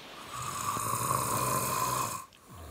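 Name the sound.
snoring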